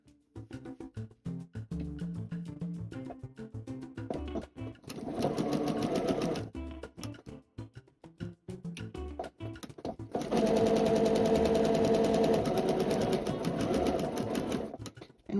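Sewing machine stitching a Sweet Salsa quilt block, with two loud sustained runs of rapid mechanical whirring, separated by quieter handling noises and stops.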